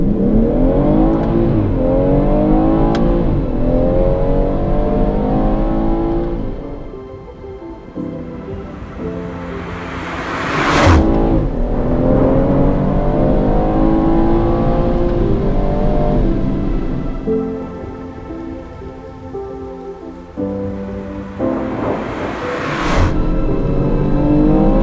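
The six-cylinder engine of a 2017 BMW M240i M Performance accelerates hard. It sounds loud and close, with repeated rising pulls broken by shifts and a brief easing of revs between them.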